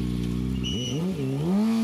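Racing motorcycles, including a Yamaha R6, pull away on a road-racing circuit, engines droning and then rising and wavering in pitch as they rev and shift, loud and close with steady engine noise throughout.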